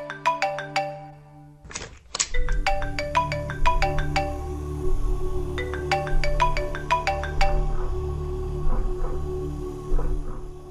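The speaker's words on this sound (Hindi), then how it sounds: "तेरा फोन बज रहा है कब से उठा ले" A mobile phone ringtone plays a repeating electronic melody of bright chiming notes at moderate volume in a Hindi crime drama scene, broken by a brief thump near the start.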